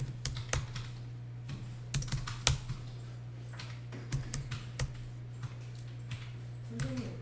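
Typing on a computer keyboard during a tax accounting class, with irregular light key clicks and occasional louder taps over a steady low hum.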